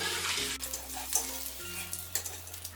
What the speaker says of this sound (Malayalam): ഒരു 2 മിനിറ്റ് ഈ നെയ്യിലും എണ്ണയിലും കിടന്ന് ഇതൊന്ന് റോസ്റ്റ് ആയാൽ മതിയാവും.